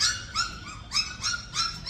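Stray puppies whimpering in a series of about five short, high-pitched cries repeating roughly every third of a second, close and fairly loud with no talk over them.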